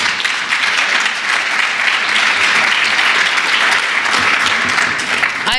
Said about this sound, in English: That got a much bigger clap than I asked for.